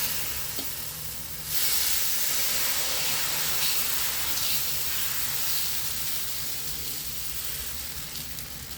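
Dosa batter sizzling on a hot pan, a loud broadband hiss that swells sharply at about one and a half seconds and holds steady to the end, with no talking.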